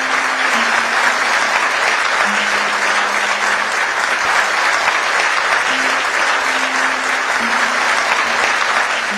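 Steady, dense audience applause at a Pakistani event honoring Nasir Pasheen and Zaheer Abbas, loud and sustained throughout with a faint tonal hum underneath.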